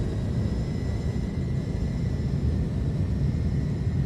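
Twin engines of an iniBuilds A310 airliner roar steadily at takeoff power during a Lufthansa departure from Munich in Microsoft Flight Simulator, a loud, constant broadband rumble with no break.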